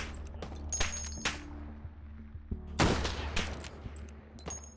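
Gunfire in the VR shooter H3VR, with a few sharp shots early, then a louder burst near the middle trailing into scattered follow-up shots, all close and loud over a low game hum.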